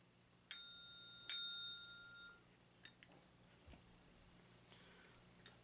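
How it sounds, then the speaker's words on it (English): Small plastic bell from the Speedy Scribbles board game rung twice, two sharp dings each ringing out briefly, followed by a few light clicks in a quiet room. "It's kind of a nice looking little bell."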